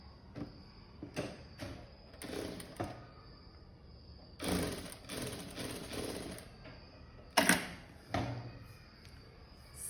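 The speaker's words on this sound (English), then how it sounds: "Okay, so I'm stitching on this now." A sewing machine stitches a neckline on a garment in bursts, with short runs of rapid mechanical whirring and clatter separated by pauses, fairly close and with no one talking.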